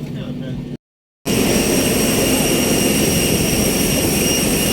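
A jet airliner's engines whine and roar steadily after landing at Port Blair airport, a loud sustained hum with high tones, broken by a brief gap of silence early on.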